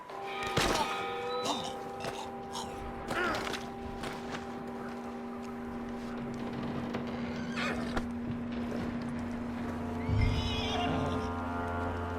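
A horse whinnies loudly near the start, followed by hoof clops and a soft snort later, with a low steady background hum, in the video game Red Dead Redemption 2.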